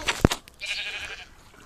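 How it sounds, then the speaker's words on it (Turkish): A sheep bleats once in a drawn-out, wavering call after a sharp knock, fairly close in an outdoor farm setting, with faint rustling around it. "Aa iki tane koyun."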